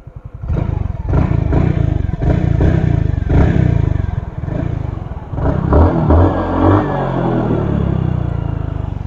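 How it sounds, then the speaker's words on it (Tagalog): A Suzuki Skydrive Crossover scooter on its stock exhaust runs loud and close, with a string of sharp revs and rumbling engine pulses followed by a steadier, throatier run near the end. "stock exhaust, sound check."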